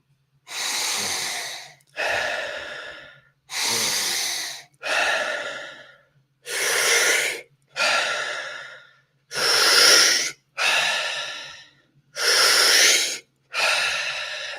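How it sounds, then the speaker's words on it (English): Deep, forceful breaths during a morning breathwork session, ten strong inhales and exhales in a steady rhythm, close and loud with short pauses between, no talking. "now we'll begin our third and final round of deep breathing now"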